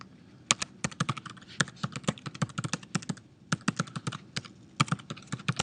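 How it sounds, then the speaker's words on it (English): Rapid, light clicking of computer keyboard keys as an email address is typed into a tutor login page, steady irregular taps close by in a quiet room. "type in your email address"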